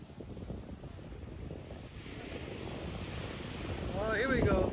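Strong wind roars across Chaweng Beach on Koh Samui, Thailand, a steady buffeting rush mixed with surf that swells louder toward the end, with a brief voice-like sound near the close.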